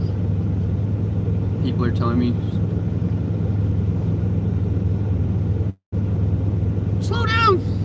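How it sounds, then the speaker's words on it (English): Steady low engine rumble from a camper van drives under the whole stretch, with a brief dropout near the end, while a person talks over it in a few short bursts. "Sometimes my van sounds like a race car when I'm accelerating."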